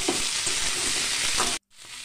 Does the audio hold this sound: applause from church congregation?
no